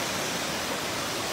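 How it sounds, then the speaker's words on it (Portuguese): Water pouring over the spillway of the Araras reservoir in Varjota, Ceará, a dense continuous roar of falling water, loud and unbroken. "Olha aí a queda d'água, como é bonito."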